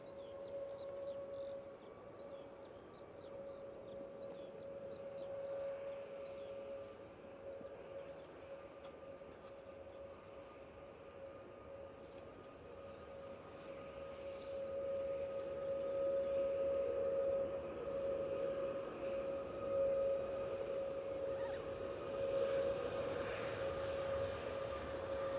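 A Boeing 737 Max 8 at Manchester Airport produces a sustained, whining engine tone with a low rumble, heard from a distance and swelling louder in the second half.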